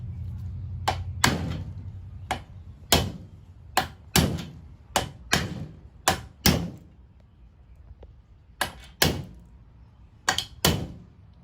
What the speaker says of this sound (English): Then hammer the other end in.